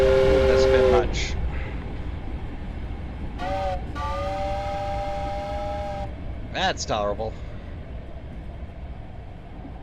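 A train at Gap Rock train station in the horror game Reverend sounds its horn in several sustained blasts and short toots over a rumbling rail bed, with a voice speaking briefly at the start.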